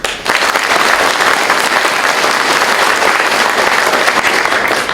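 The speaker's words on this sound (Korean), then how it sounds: "네빈을 소개할 때마다 큰 박수로 환영해 주시면 감사하겠습니다" Sustained, dense applause from a seated audience greeting a guest at an international symposium on healthy tap water, loud and steady for the full length with no talking over it.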